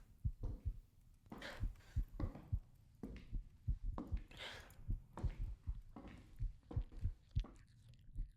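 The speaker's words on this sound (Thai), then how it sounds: "มันมีเสียงหัวใจด้วยล่ะ" A thumping heartbeat in the horror video game Wrong Floor, low muffled double beats repeating in a steady rhythm, close and prominent, with faint game ambience and occasional soft sounds between beats.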